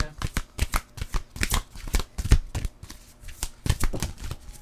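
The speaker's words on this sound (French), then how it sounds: "On va aller chercher une carte conseil." Tarot cards are shuffled in rapid, uneven riffles and snaps close to the listener during a card reading, with a voice talking over the shuffling.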